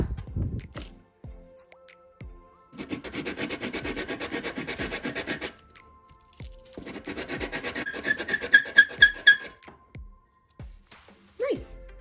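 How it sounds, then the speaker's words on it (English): Wooden nutcracker pieces being sanded by hand in two sustained bursts of rough, rhythmic rasping, close up, with brief speech and handling noises before, between and after the strokes. "And sand this one."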